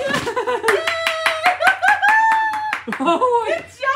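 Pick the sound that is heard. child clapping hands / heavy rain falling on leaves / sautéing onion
child clapping hands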